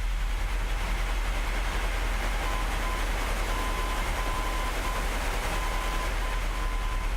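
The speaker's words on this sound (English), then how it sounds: "I'm starting to hear the Morse code identifier" Morse code identifier of a navigation beacon in Microsoft Flight Simulator 2020 during a Boeing 737 approach near Calgary: a faint, steady tone keyed in short and long dashes, repeating over a constant loud cockpit engine drone.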